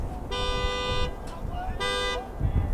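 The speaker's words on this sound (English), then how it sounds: "the car horn's still ringing" A car horn honks twice near a boys' lacrosse game at Mamaroneck, each blast long, loud and steady, with a brief gap between them over outdoor background noise.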